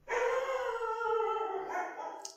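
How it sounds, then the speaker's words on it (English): A dog howls in one long, sustained, wavering note that fades slightly toward the end, fairly loud and alone in a room. "Dog is going crazy back there."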